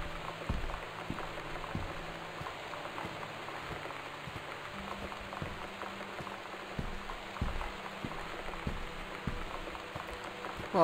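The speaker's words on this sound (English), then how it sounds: "at least the rain is somewhat soothing" Steady, soft rain falls in the video game Gone Home, a continuous patter with scattered drips against a faint indoor hum, no voices.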